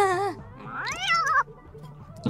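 A cat meows in The Sims 4 life-simulation game: several rising and falling cries, the first bright and tonal, a longer wavering one in the middle, then a short call at the end, close and clear with faint game sound underneath.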